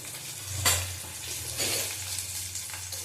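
Turmeric and Kashmiri chili powder sizzle in hot oil in a pan for a katla fish and potato curry, a steady close frying hiss broken by a few sharp bursts as the spices are stirred.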